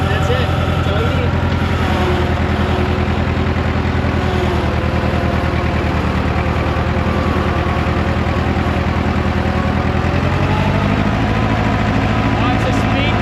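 Allis Chalmers 644 articulated forklift, left sitting for over ten years, running in road gear with a steady, loud diesel engine rumble throughout, and a voice briefly audible over it.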